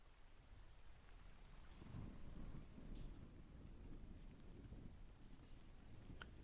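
Distant thunder rumbles low and soft beneath a continuous wash of steady rain and light wind, forming a calm, even storm ambience with faint drops pattering on surfaces.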